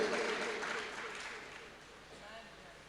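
Audience clapping during a Jain sermon: a brief wash of hand claps from a gathered crowd, loudest at the start and fading away over a few seconds, with voices murmuring underneath.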